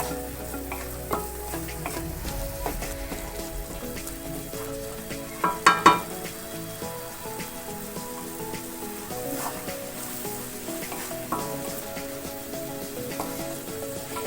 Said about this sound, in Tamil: இதோடைய பச்சை மசாலா நல்லா போகிற வரைக்கும் இதை நம்ம நல்லா இப்படி கொஞ்சம் நேரம் நல்லா பொரிய விட்டுக்கலாம்